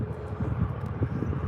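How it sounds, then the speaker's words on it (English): A jet airliner approaching Birmingham airport gives off a steady, broad roar that stays fairly constant and fills the scene at moderate distance. "Our next jet coming in"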